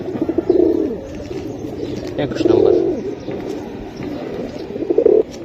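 Female pigeons of a Bangladeshi loft breed coo in soft rolling bursts close by, with someone speaking over the birds throughout.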